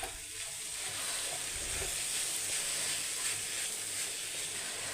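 Lentils dry-roast in a hot pan for an almond gum and coconut milk payasam, giving a steady, close hissing sizzle with continuous stirring scrapes and no talking.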